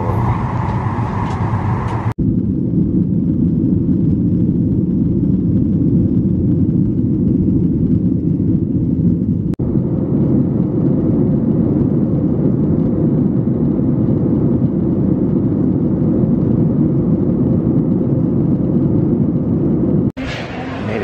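Inside a Southwest airplane cabin waiting to depart for Chicago, a steady low engine and ventilation rumble fills the space, loud and continuous, with muffled cabin sounds and a brief brighter noise at the start and end.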